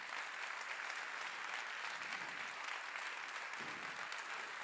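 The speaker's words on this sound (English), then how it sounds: "Let's give him an applause." A crowd at a New Hampshire campaign event for Joe Biden applauds steadily, a dense, even roar of many hands clapping from a distance, faint but continuous throughout.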